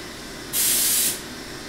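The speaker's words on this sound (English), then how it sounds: "The coolant that I'm using is CoolRite 2290." A short, loud burst of CoolRite 2290 coolant sprays from a CNC machine machining stainless knife blade blanks, a broad hiss of about half a second rising over a steady machine hum.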